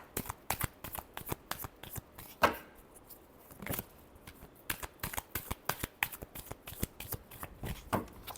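Tarot cards shuffled by hand in a series of quick, crisp riffling snaps and soft flutters, irregular but continuous, close and fairly quiet with no talking.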